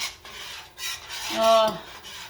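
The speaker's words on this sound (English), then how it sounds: "scrape up all the little bits of these little seasonings that we put in" A utensil scrapes the bottom of a pan, loosening seasoning bits in water while cooking moussaka, with a steady rasping rub and a brief sizzling swell near the middle.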